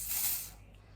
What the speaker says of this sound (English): You're just gonna spray it at the back